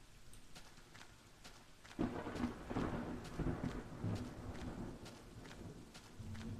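Steady, faint rain falls, with a low thunder rumble swelling underneath partway through. It is a storm ambience with no voices.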